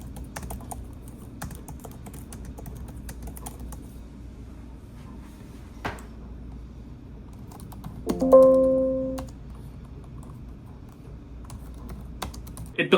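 Soft, fairly muted keystrokes tap in an irregular patter on an Asus VivoBook S14 OLED laptop keyboard, close and quiet, with a brief tonal beep partway through.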